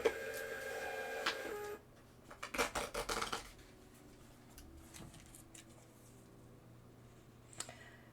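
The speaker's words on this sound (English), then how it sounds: "I don't understand why my thermal printer sometimes does this." A thermal printer runs in a short burst of rapid, rasping mechanical stutters, then stops, leaving faint background noise and a few small clicks afterward.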